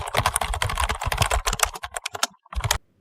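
Rapid typing of Python code on a computer keyboard: dense, close, crisp key clicks in quick bursts, slowing to a few scattered taps before stopping.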